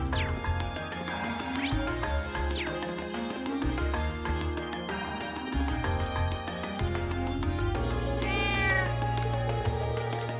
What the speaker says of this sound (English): What a strange cat.